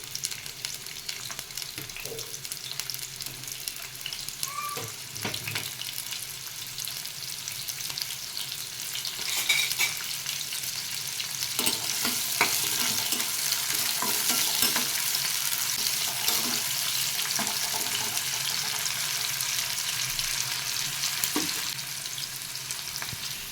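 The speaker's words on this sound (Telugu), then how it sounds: "ఉల్లిపాయ పచ్చిమిర్చి తరుగు కరివేపాకు ఇవి బాగా వేయించుకున్నాం" Chopped onion, green chilli and curry leaves frying in a pan for mutton gongura biryani, a steady close sizzle that grows louder partway through, with scattered clinks and scrapes of stirring, no speech.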